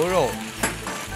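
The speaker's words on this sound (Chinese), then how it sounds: "锅内放油，放入牛肉" Beef strips hitting hot oil in a wok give a brief burst of sizzling, with a short clatter partway through.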